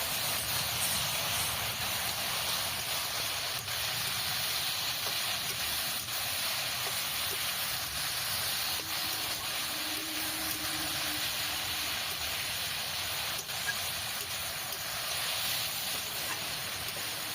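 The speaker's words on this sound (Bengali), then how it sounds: "আমি একটু লঙ্কার গুঁড়ো দিয়ে দিলাম সামান্য জল দিয়ে এবার কষিয়ে নিতে হবে" Taro stolons with fish roe, chili powder and a splash of water simmer in a pan, filling the space with a constant, even hiss and faint low bubbling, with no voices.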